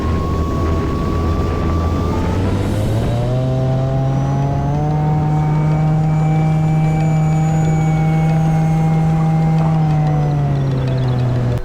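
An FMS Pilatus PC-21 RC model plane makes a high speed pass down the runway, its loud electric whine rising in pitch, then holding steady and strong before slowly dropping away.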